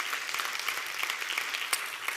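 Applause from an audience, many hands clapping in a steady crackling wash that holds at an even level.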